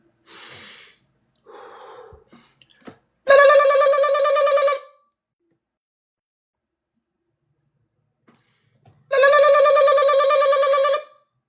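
A voice mimics an old telephone bell with two long buzzing rings separated by a pause, preceded by breathy sniffs and small mouth sounds.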